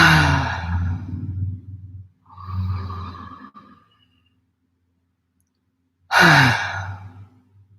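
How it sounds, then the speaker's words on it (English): Slow deep breaths during a guided meditation, in through the nose and out through the mouth: two long airy exhales, a quiet pause, then another sharp breath, close and alone. "I invite you to inhale through your nose and exhale through the mouth"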